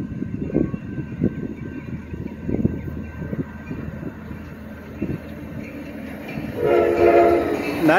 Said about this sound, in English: Here comes the late San Joaquin train, 7:10